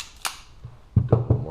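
The slide of an unloaded Springfield 9mm 1911 pistol is cycled by hand, giving a quick series of sharp, close metallic clicks and clacks, about four distinct snaps in under two seconds, with no talking.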